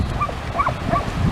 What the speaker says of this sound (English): And that's the sound of a dog.